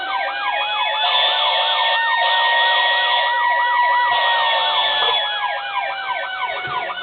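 Siren on a 1:32 Code 3 Philadelphia ALF Squrt 57 diecast toy fire truck, a loud electronic wail sweeping up and down continuously, with steady air-horn-like tones layered through it and no talking.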